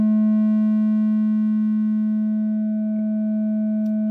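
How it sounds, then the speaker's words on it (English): A steady, buzzy Make Noise 0-Coast synthesizer triangle wave tone held on one pitch, alone and unchanging, with a faint click near the end. "it's going from something like a pure triangle when balance is left"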